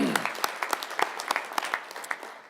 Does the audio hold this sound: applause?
yes